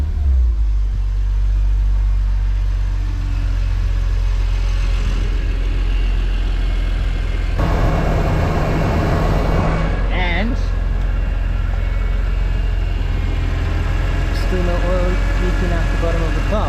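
BMW E46 M3 engine idling steadily, a low continuous rumble with a brief rise midway, close and loud throughout with no talk over it.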